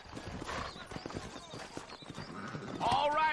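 Horses clip-clopping at a trot in the Red Dead Redemption video game, a steady rhythmic hoof patter under talk, with a horse whinny near the end.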